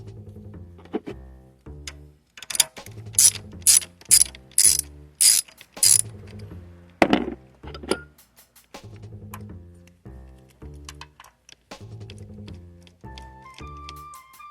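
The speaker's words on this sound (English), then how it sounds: "I'm using a deep socket because it's what I'm going to be using to remove all these mounting bolts" Ratchet with a deep socket loosening valve cover bolts on a Chrysler 300, rapid clicking bursts in short repeated runs with a few louder, sharper pulls, close and alone.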